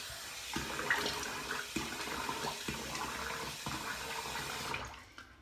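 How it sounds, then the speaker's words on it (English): A double-edge safety razor with a closed comb rinsed under a running tap, steady water splashing with a few brief clunks against the basin, ending abruptly as the flow stops. "Go down for the rinse and we'll be right back."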